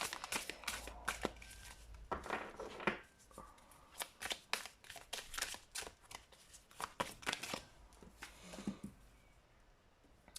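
Thin playing or tarot cards being shuffled by hand, a close, busy run of crisp riffles and flicks with short pauses between bursts, no talking.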